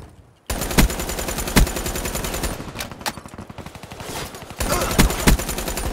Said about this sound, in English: Cerberus fragging targets.